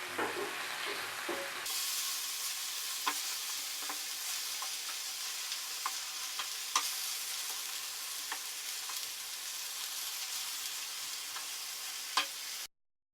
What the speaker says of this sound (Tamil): இப்போ சிக்கன் 2 சைடும் பொன்னிறமாக வர அளவுக்கு நல்லா வறுத்து எடுத்துக்கோங்க